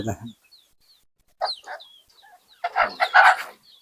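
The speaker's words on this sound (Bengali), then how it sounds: "সকাল সকাল মুরগিগুলা ছাড়তেছি" Free-range desi chickens cluck and squawk as they are let out in the morning, in short separate bursts with quiet gaps between them and a louder, busier flurry near the end.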